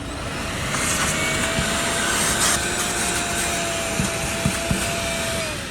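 A 2.5 horsepower vacuum cleaner powered through an inverter runs steadily nearby, a continuous broadband motor roar with a faint steady whine, holding constant for the whole stretch with a few small knocks.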